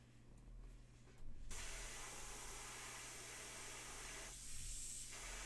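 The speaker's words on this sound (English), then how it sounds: "I'm just spraying the air at the miniature right now" A steady, hissing spray of compressed air from an airbrush aimed at a miniature runs almost continuously, briefly quieter near the start and dipping once toward the end.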